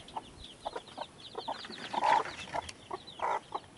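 Soft, rapid peeping from Rhode Island Red chicks nearby, many short chirps overlapping in quick bursts over a low background hum.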